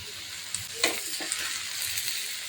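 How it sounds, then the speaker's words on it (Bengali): Potato and green bean bhaji with chopped coriander frying in an open pan, a soft steady sizzle broken by a few sharp spatula clicks and scrapes, no talking. "আর একটু ভেজে নামিয়ে নেব"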